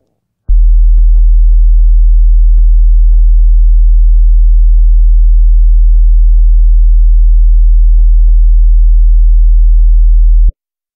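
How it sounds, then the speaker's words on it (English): Low-frequency rattle test tone from an audio system setup disc, a loud steady deep hum that starts abruptly, holds for about ten seconds with faint buzzy rattling above it, then cuts off sharply. "The rattle test will help you determine how sensitive your listening area is to low frequency vibrations"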